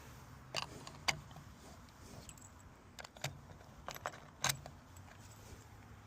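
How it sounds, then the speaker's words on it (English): Keys jangle and click as locking covers are fitted into roof rack crossbars on a 2011-2022 Jeep Grand Cherokee, a series of close, sharp metallic clicks and rattles spaced over several seconds, no talking. "the last thing to do is insert our covers and lock them"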